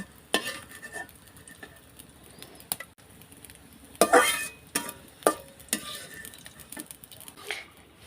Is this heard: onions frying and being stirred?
yes